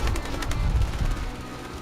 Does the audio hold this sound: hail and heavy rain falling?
no